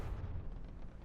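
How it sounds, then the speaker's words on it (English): A large explosion in the naval combat game From the Depths, a dense low rumbling blast that fills the whole moment without a clear onset, steady and heavy. "that was a very pretty explosion"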